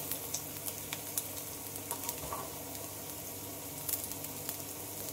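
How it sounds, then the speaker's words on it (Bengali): Banana stem pakoras frying in oil, a continuous crackling sizzle with scattered sharp pops and the occasional scrape of stirring, close and fairly quiet, with no voices. "এগুলো এখন উল্টে পাল্টে লাল লাল করে ভেজে নেব।"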